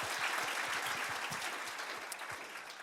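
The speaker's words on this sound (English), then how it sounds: "go ahead and give applause" Applause at a gathering on wrongful conviction and exoneration, an even wash of many hands clapping at moderate level, slowly thinning toward the end, with a few low thumps underneath.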